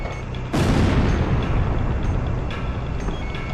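Bombs burst in the air-combat game Ace Combat Zero: The Belkan War, where a sudden loud boom hits and then rolls into a long, rumbling decay under a faint electronic background.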